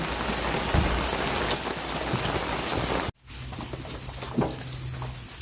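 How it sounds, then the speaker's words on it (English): Steady rain falls outdoors during breakfast cooking on a Blackstone grill, a dense close patter that cuts off abruptly partway through, leaving quieter drips and faint background sounds. "Experimental breakfast in the rain."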